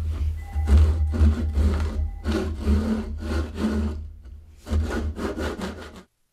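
A hand saw cuts through a wooden chair brace clamped in a vise, close rhythmic rasping strokes in two runs separated by a short pause.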